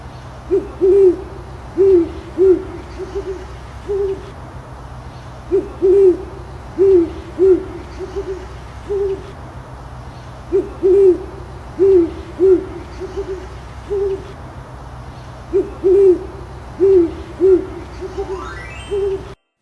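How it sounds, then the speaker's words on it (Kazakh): An owl hoots close and steady in repeated groups of short hoots with brief pauses between groups, alone over a faint low hum. "Бұл үкі."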